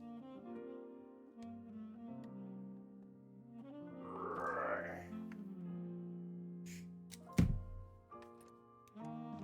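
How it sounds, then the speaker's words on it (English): A man groans and strains in drawn-out vocal sounds while stretching, followed by a sharp thump. "that is the sound of a man stretching right there"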